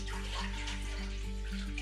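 Water pours steadily from a tap into a pot to make 2:1 sugar water, a continuous close rushing splash with no voices.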